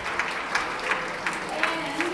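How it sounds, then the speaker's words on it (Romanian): At an awards ceremony in Budapest, the audience applauds steadily, moderately loud clapping with a few sharper claps standing out, while a voice speaks faintly over it. "vă rugăm aplaudați-i"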